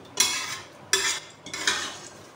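Minced meat being stirred and mixed in a pan for qeema karelay with bitter gourd, three distinct scraping stirs of a spoon against the pan at a loose rhythm, close.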